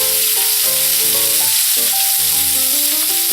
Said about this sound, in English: Okay, so let's check and see if we got a nice sear, and we do.